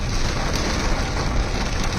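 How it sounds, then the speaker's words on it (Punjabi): Heavy monsoon rain pours steadily on Pakhowal Road in Ludhiana, a dense, constant hiss of downpour heard close and loud for a couple of seconds. "ਫਾਈਨਲੀ ਜਿਹੜਾ ਮੀਂਹ ਹੈ ਉਹ ਰੱਜ ਕੇ ਪੈ ਰਿਹਾ ਹੈ"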